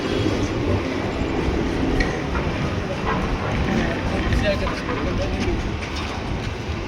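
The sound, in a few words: superfast express train departing Kasaragod railway station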